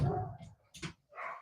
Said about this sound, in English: I'm just going to shut that window so you can't hear those dogs too bad